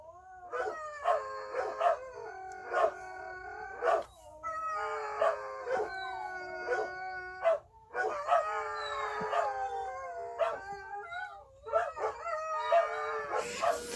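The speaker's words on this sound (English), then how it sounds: "That's a German Shepherd howling." A German Shepherd howls in long, wavering, repeated phrases, joined by higher yipping howls, continuing steadily with brief pauses between bouts.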